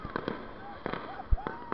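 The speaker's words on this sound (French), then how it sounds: "on a la hauteur des feux d'artifice." Fireworks bursting at a Saint Michel fair in Péronne, heard from a Vertical Limit ride: several sharp pops and bangs spaced irregularly, one louder thump near the end, with a voice talking faintly around them.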